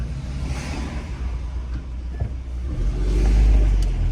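Car driving slowly at about 21 miles per hour through West Philadelphia's Mantua neighborhood streets, a close, steady engine hum and road rumble that swells louder toward the end.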